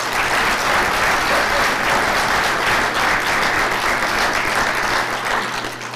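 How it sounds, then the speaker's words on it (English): Sustained audience applause fills a civic State of the City event in Edmonds, a dense steady wash of many hands clapping at full strength before tapering slightly at the end. "give a great round of applause for our two previous speakers"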